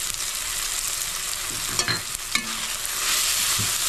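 Chopped green chilli being stirred into potatoes frying in a pan for aloo jeera, a steady sizzle under a few sharp spatula scrapes and clinks near the middle, with no voices.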